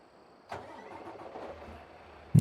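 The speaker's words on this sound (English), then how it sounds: "We started our tractor up." A truck tractor's engine cranks and starts in American Truck Simulator, with a sudden catch after a quiet moment, then a low, settling idle rumble and a sharp thump at the end.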